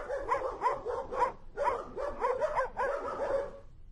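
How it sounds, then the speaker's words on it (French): Dogs let loose in a Simpsons cartoon scene bark in rapid, overlapping bursts, several animals yapping loudly and continuously throughout, with no talking. "Lâchez les chiens."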